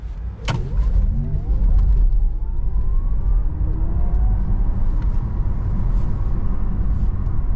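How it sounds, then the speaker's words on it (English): A Porsche Taycan Turbo S massage seat runs on its maximum stretch program, giving a steady low motor hum and whir with faint, slowly shifting tones that continue without pause inside the car, with no talking. "Now the massage is working."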